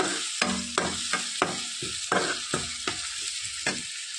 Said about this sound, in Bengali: দিয়ে নিলাম পেস্ট করে রাখা টমেটোটা। আবারও হালকা নাড়াচাড়া করে নেব।